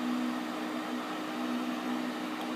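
Food dehydrator running with three trays of beef jerky inside, giving a quiet, steady fan hum with a constant tonal whine and no talking.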